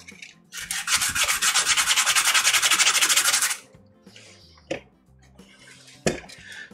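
Boat decking on a yacht is sanded in a loud, steady, rhythmic rasp for about three seconds, followed by quieter shuffling and a couple of sharp knocks, with no voices.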